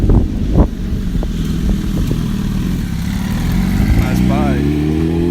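A motorcycle passes on an afternoon walk, its engine drone loud and close and rising in pitch as it approaches, with some wind buffeting on the microphone.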